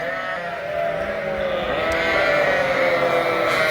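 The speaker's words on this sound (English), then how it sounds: "there's 150 ewes in there" A pen holding about 150 ewes on a sheep farm, many overlapping bleats forming a loud, continuous chorus close by, with no talking.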